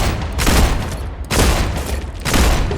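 Loud, dense rifle fire in the Star Rupture video game, arriving as three sustained automatic bursts of rapid shots, each dumping a full magazine with brief gaps between bursts and no talking.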